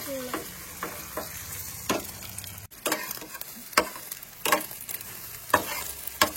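An egg fries in a pan for a morning meal at home, giving a steady sizzle broken by repeated scraping and stirring clicks from a utensil, fairly close, with no talk.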